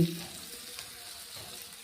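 Okra and potatoes fry in a pan with a steady, soft sizzle and crackle that holds evenly through a brief moment of cooking.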